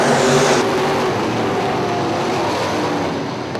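Modified race cars roaring together at the green flag at Cherry Speedway, a loud, dense engine drone that surges early and then holds steady before easing slightly at the end.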